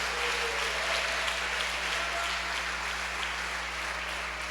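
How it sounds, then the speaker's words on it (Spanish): Congregation applauding during a church service, a steady dense wash of clapping held at even strength throughout, with a low hum beneath and no speech. "Vale la pena que regalemos un aplauso fuerte al Señor."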